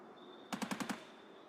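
A rapid burst of five gunshots in a video game firefight aimed at a BTR armored vehicle, evenly spaced and sharp, standing alone against a quiet background.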